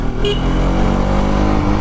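A steady, loud engine drone from the exhaust of a 2017 Bajaj Pulsar 200NS motorcycle idling or running at constant revs, continuous with no talk.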